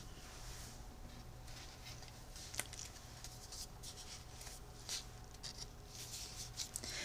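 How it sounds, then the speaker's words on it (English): Trimming excess paper off a card panel during card making, a quiet close series of small snipping and scraping sounds spread irregularly over several seconds against a faint steady hum. "I'm going to trim off the excess."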